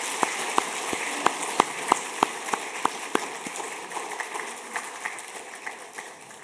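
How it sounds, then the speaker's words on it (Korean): A church congregation applauds in scattered, fairly regular claps at moderate distance, the clapping thinning and fading over several seconds. "큰 박수로 환영하겠습니다."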